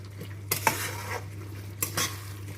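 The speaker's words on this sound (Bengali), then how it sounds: "এই রকম অবস্থায় এখন আমি এর মধ্যে দিয়ে দেবো পেঁয়াজ পাতাগুলো। পেঁয়াজ পাতাগুলোকে দিয়ে ভালো করে মিশিয়ে নেব।" Utensil scraping and clinking as spring onion greens are stirred into chili chicken in a pan, with a few sharp metallic knocks against a steady low hum.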